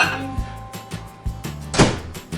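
A series of short clunks and thuds, like an appliance door opening and closing, with a louder clatter near the end.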